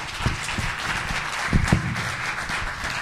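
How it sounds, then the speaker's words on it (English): An audience applauds at the close of a business panel session on social analytics: steady, moderately loud clapping across the room, with a few sharper bursts of claps rising above the wash. "please give these guys some applause"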